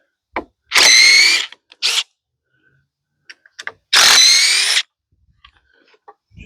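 A power drill backs out screws on a chainsaw-milling rig beside a huge pine log, giving three loud whirring bursts of about a second each, separated by quiet pauses with small clicks and handling knocks.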